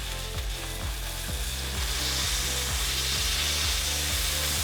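Fish fries in hot oil in a skillet, a steady close sizzle with a bright hiss layered over a low rhythmic pulsing hum, no voices.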